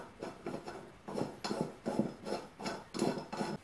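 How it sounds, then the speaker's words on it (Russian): Metal bolts being screwed by hand into a clamp made from a leftover piece of plumbing water pipe, giving a repeated rasping, scraping rhythm of about eight close strokes with no talking. "теперь вкручиваем два винта, два болта"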